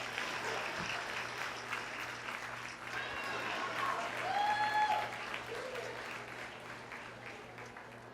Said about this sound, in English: Please give a big round of applause to Zaire Taylor